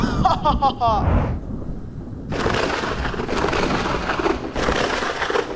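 Cartoon thunder from lightning crashes loudly in heavy rumbling bursts that swell and fade, following a short burst of voice and music at the start.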